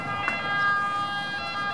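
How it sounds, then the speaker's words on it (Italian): An ambulance siren wails loud and steady in a Rome neighbourhood filled with acrid smoke, its tone holding throughout the short stretch. "Ecco, arriva un'ambulanza"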